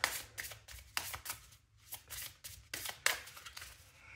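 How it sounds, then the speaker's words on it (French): Tarot cards are shuffled and drawn close by in quiet, papery riffles and flicks that come in uneven bursts with short pauses between them. "je vais aller rechercher une ou deux cartes"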